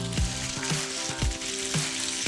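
Cabbage frying in a pan, laid flat to brown, gives a steady loud sizzle and crackle with periodic sharper pops and spatters roughly every half second, with no voices.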